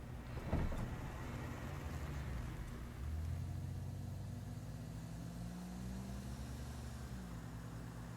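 A car engine rumbles steadily as the vehicle drives out of a garage in the 1971 film Duel, a low, even drone with a slight rise in pitch partway through.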